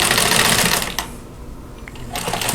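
Sewing machine stitching quilt pieces, a loud rapid mechanical chatter that stops for about a second and then starts again, close up and alone.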